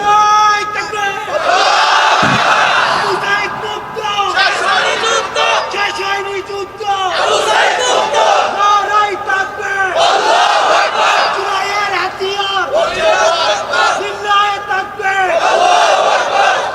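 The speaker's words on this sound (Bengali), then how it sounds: "একবারই স্লোগান।" A large crowd at an outdoor religious sermon roars a slogan in unison, loud repeated bursts of chanting rising and falling in waves for the whole stretch.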